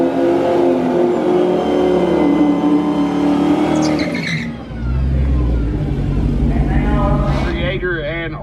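A Dodge Challenger Hellcat roars at full throttle on an eighth-mile drag strip, loud and steady for several seconds before dropping off, then revving back up with a shifting pitch; an announcer talks over the engine noise.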